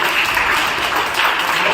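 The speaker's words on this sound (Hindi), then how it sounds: "एक बार तालियां बेटा।" Applause from an audience at a children's blindfold-reading demonstration, a short dense burst of many hands clapping at steady loudness, with no talking over it.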